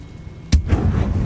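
Fire spell cast in the Hogwarts Legacy video game: a sudden sharp burst hits at once, then gives way to a rumbling, crackling roar that carries on to the end.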